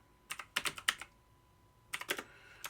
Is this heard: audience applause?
no